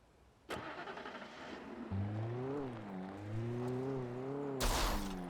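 A car engine from the video game Alan Wake starts with a sharp burst, then settles into a steady drone that rises and falls in pitch as it is driven, ending with a loud crash or bump.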